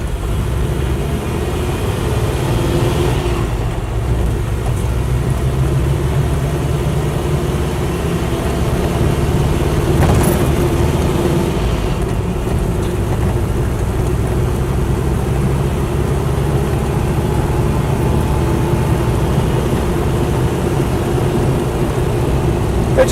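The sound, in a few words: Land Rover Series III V8 driving, clutch thrust bearing noise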